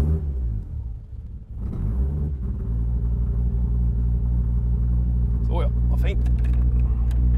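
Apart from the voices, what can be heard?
car engine running on E85 after starting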